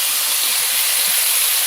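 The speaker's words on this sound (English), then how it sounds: "I'm going to add a little bit of soy to this just because it's really good for browning" Low sodium soy sauce hits a hot pan of cooked lentils being browned and breaks into a loud, steady hiss of steam and sizzle for under two seconds, close and without talk.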